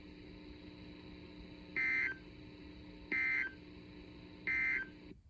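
A weather-watch Emergency Alert System broadcast plays three identical short bursts of harsh data-tone bleeps, evenly spaced over a quiet background hum.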